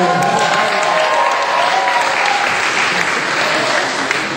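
A church congregation at a worship service claps in a dense, steady wave of applause that stays loud and even from start to finish.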